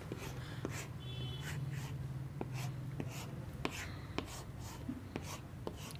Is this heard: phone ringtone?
no